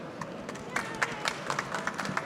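An audience at a babytech industry event applauding two women onstage, scattered claps that build from sparse to fuller, fairly distant and moderate in level under light room noise.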